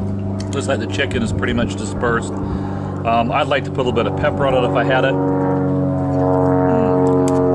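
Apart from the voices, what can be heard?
airplane flying over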